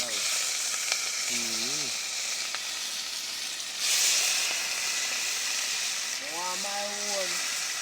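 Curry chicken back frying in a pot sizzles steadily throughout, with a short louder hiss midway and brief voices talking over it.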